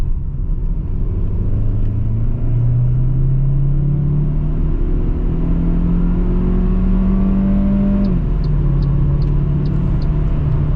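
MG HS 1.5 T-GDI with a dual-clutch gearbox pulls away under acceleration, its engine note climbing steadily before a gear change drops the pitch around eight seconds. A constant loud road rumble is heard from inside the cabin.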